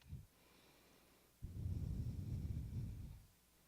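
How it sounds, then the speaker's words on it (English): Deep, slow breathing in a quiet yoga class: one soft exhale at the start, then after a pause a long, broad rushing breath lasting about two seconds, close and fairly loud, with no talking. "Let the eyes close, and we'll take a few deep breaths here."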